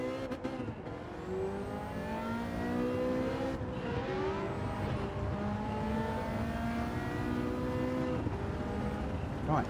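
Ferrari F40 engine in Gran Turismo 7, a modified car, droning steadily at high revs with rising and shifting pitch through the whole stretch, loud and continuous, with no talk over it.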